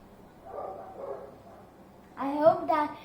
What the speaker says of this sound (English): I hope that the barking of the dogs doesn't come.